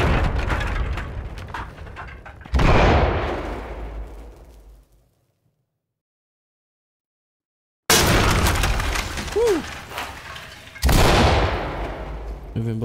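During a tactical raid in the Ready or Not video game, loud bursts of gunfire and blasts ring out, a flashbang among them. They cut to total silence for a few seconds, then return with further volleys.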